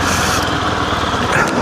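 A 700cc motorcycle engine droning steadily while being ridden in freezing rain, a loud continuous buzzing hum with no breaks.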